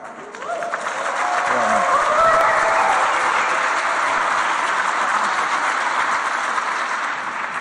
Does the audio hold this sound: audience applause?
yes